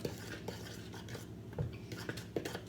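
A young child stirring cherry cupcake batter in a bowl, making soft, faint scraping and tapping strokes at an uneven pace, heard close and quiet.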